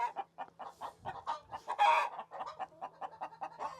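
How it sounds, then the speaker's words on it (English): Chickens cluck on a farm in a steady run of short, close, fairly loud calls, with a brief busier burst partway through and a faint low hum beneath. "got myself a chicken"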